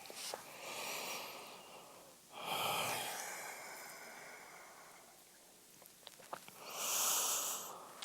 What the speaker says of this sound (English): we're going for 3 breaths